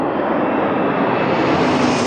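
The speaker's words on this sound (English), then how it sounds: "And there's another plane coming." A propeller airplane passes overhead near a parked MX5, a steady, loud broadband engine roar that fills the moment without any talk.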